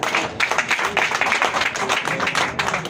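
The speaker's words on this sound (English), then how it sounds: "Clap for yourself" A crowd claps at a political party event, with dense, continuous applause from many hands. It is fairly loud and fills the whole stretch with no clear voices over it.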